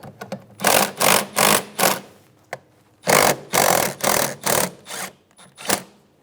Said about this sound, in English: Loosen the clamp on the back of the air box using a 10mm socket.